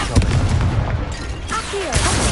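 Spell blasts from the Confringo fire curse in Hogwarts Legacy on PS5, a run of booming, crackling bursts during combat, loud and close, with game voices and music mixed underneath.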